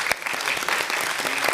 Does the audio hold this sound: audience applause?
yes